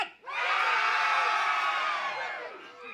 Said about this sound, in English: I said scream out loud!